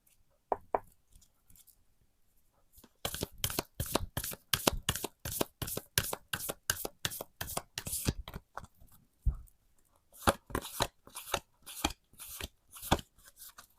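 Oracle cards are shuffled for a tarot reading: after a short, quiet start, a long run of quick, crisp riffling bursts follows, a brief pause, then more rhythmic shuffling, close and clear with no speech.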